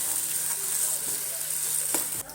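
Roasted eggplant bharit cooks in a pan with a bright, continuous sizzle held close and steady, plus a couple of faint taps, before it cuts off abruptly.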